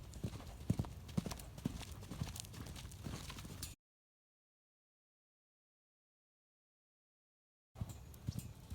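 Hooves of a gaited horse cantering, a rhythmic clip-clop of footfalls at moderate distance, broken by a silent gap partway through.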